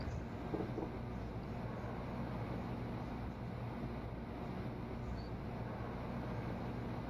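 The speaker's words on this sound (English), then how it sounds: "The Italo train." An Italo train rushes past, a steady, loud, broadband rumble and wind-like roar that holds at an even level for the whole stretch, with no voices.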